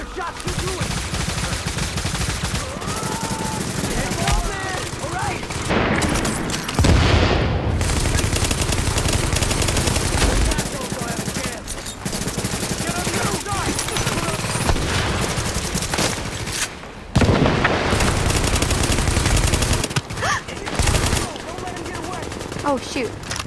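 Dense, loud gunfire in The Division video game, with sustained rapid automatic bursts and heavier booms that continue almost throughout, while a player talks over it.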